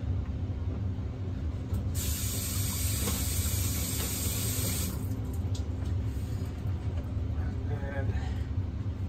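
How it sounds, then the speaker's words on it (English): Running water rinses a piece of vintage kitchenware, a steady hissing gush that rises for a few seconds and then cuts off over a constant low room rumble. "So now I'm gonna go ahead and just rinse that off."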